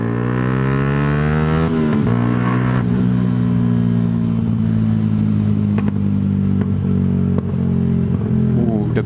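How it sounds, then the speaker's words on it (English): A Yamaha YZF R125 motorcycle engine runs loud and close with a steady harmonic drone that shifts pitch as it revs, broken by several sharp backfire pops scattered through the run. "Ooh, the backfires"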